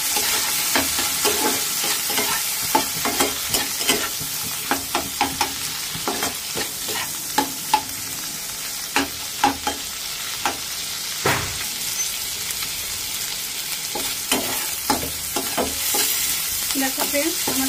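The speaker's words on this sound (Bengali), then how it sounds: "এখন আমি ওই তেলের মধ্যেই চিংড়ি মাছটা ভেজে নেব।" Prawns frying in hot oil in a home kitchen pan, after potatoes were fried in the same oil, giving a steady crackling sizzle with frequent sharp pops and scraping stirs throughout, no voices.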